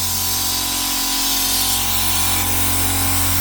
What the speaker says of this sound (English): Just turn this compressor off.